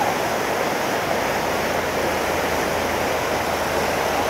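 A mountain stream swollen after a flash flood rushes loudly and steadily nearby as a continuous roar of water, with no voices.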